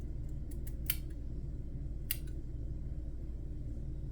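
Scissors snipping off pieces in a garden courtyard setting, a few quick faint snips early on and another pair of cuts about two seconds later, over steady low background rumble.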